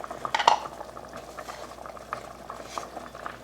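Soup simmers in a pot with soft, irregular bubbling and gentle patter, opening with a brief metallic clink, the quiet liquid sounds continuing steadily underneath.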